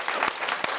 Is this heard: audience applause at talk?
yes